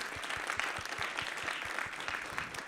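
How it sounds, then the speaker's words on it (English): Audience applause at a jazz festival lineup reveal event, a steady wash of many hands clapping with some individual claps standing out, fairly loud and continuous with no talking over it. "Round of applause for all of them."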